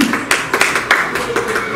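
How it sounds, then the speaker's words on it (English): Applause for children at a school English Day event: a short burst of clapping with sharp irregular hand claps, moderately near and fairly loud, no talk over it. "Let's receive them with a round of applause."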